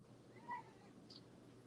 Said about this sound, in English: Now my cat wants to come back in.